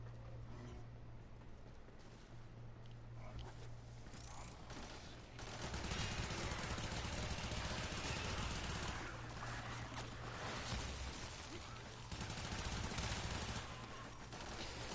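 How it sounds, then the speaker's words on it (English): Soma Prime rifle in the video game Warframe firing in long sustained automatic bursts, a dense rapid rattle of shots that swells louder midway and keeps going against Infested enemies. "the rifle I'm using right now is the Soma Prime"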